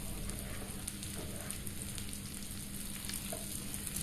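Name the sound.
chopped vegetables frying in a pan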